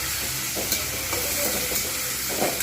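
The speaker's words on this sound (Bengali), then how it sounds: "পটলটা প্রথমে একটু ভালো করে ছোলার সঙ্গে ভেজে নেবো।" Pointed gourd (potol) frying with chickpeas in a generous amount of hot oil, a dense continuous sizzle and hiss with occasional stirring scrapes, close and steady throughout, no voices.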